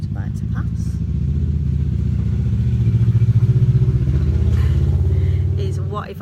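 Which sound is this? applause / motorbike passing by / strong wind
motorbike passing by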